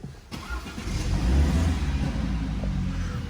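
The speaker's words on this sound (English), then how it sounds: "Start the car." BMW 420i Gran Coupe from 2019 starting up inside the cabin, a close low rumble that swells and settles into a steady idle hum, with no talking.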